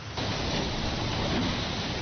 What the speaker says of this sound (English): The early calling card from Florence. Driving rain, wind and waves.